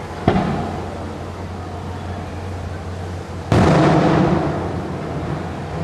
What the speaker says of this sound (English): basically it'll fire cannons into the sky when they leave